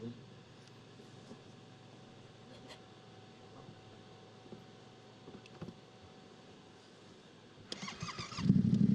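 Motorcycle being started during an off-road riding coaching session, with quiet cranking attempts before the engine catches and roars loudly near the end.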